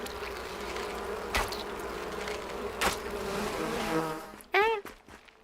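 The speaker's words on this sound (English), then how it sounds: "Oh my god, the bees." Bees buzz continuously in a Monster Hunter game with a dense, steady insect drone, fairly faint overall, broken by a couple of sharp hits and a brief louder swell near the end.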